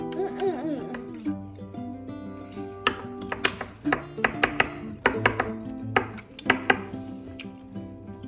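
A child chops butternut squash on a cutting board, producing a string of sharp knife knocks in uneven bursts, some louder than others, over a faint tonal hum and kitchen clatter.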